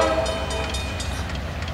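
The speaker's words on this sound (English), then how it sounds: "Coming northbound onto the single track, it's BNS 204." Norfolk Southern 204, a high-priority intermodal freight train led by Dash 9 and SD70ACu locomotives, rumbles past loud and steady on single track, with a horn tone at the start and no voices.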